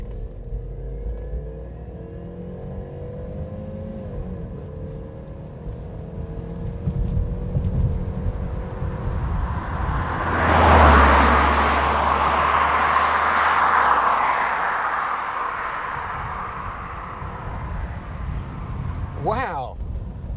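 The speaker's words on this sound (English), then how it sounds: "that is a great 4-cylinder engine for this kind of car" A 1997 Ford Scorpio Ultima with a 2.3 16V four-cylinder engine accelerates from inside the car, the engine note rising in pitch and swelling in the middle before easing off, with a steady road rumble beneath.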